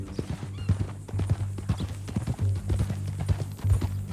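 Horse hooves clip-clop steadily on a trail in Red Dead Redemption 2, close and rhythmic, with a brief neigh among the hoofbeats over a low, constant hum.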